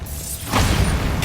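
A Bombarda blasting spell goes off in Hogwarts Legacy, a quiet hum giving way halfway through to a loud, dense burst of crackling, whooshing energy that holds steady to the end, with no voices.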